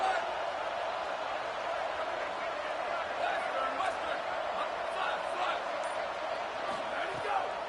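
Football stadium crowd at a Tennessee versus UCLA game roaring steadily behind the defense on a third down, a loud continuous wash of cheering with a commentator talking over it.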